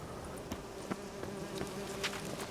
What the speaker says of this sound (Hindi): अरे यार, मधुमक्खी मुझे लग गई।